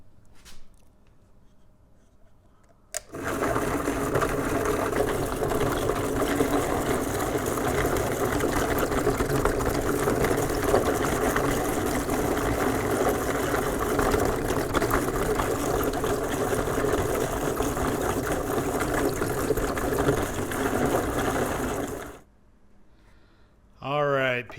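A stone sphere-grinding machine with water running shapes a Eureka jasper rock, a loud steady grinding whir with a wet edge starting abruptly, holding for about nineteen seconds, then stopping, with brief talk before and after.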